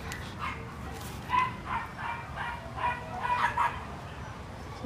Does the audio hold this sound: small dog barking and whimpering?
yes